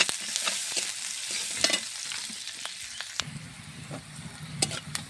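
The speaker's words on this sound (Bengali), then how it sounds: "আলু পেঁয়াজের পোল ভেজে নেব।" Potato and onion fry in oil left over from frying eggs, giving a continuous soft sizzle with sharp spattering pops and stirring scrapes, close and unaccompanied by speech.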